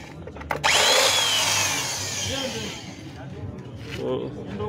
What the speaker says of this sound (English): you are going to first drill in here to remove the remaining stunted threads